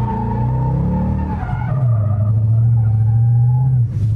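A car drifting sideways with its engine revving hard, the engine note sliding and then holding a loud, sustained high pitch close by, with tyre noise underneath and a short drop at the end.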